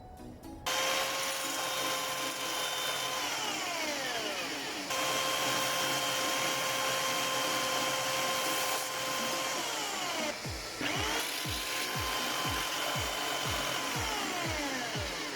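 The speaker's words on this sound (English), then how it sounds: "First one, I've got my belt sander, which takes off the bulk of any excess resin." A belt sander fitted with 60-grit paper grinds excess resin off wood-and-resin wind chime pieces. It is a loud, steady abrasive roar with a motor whine that winds down and starts again several times. Nobody speaks.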